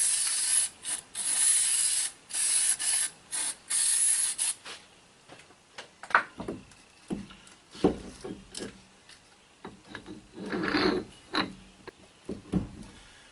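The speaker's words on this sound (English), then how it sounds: "I'm going to spray a little spray grease on here" Spray grease hisses from an aerosol can onto a front wheel bearing hub of a 1999 Buick LeSabre in several short bursts, followed by quiet metallic clicks and handling noises close up.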